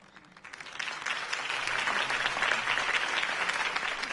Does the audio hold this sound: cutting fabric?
no